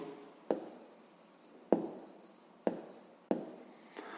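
A digit written by hand with a pen or pencil on paper during a fifth-grade maths exercise, heard as four quiet scratching strokes spaced about a second apart, each a short scrape fading into soft rubbing, with no talking.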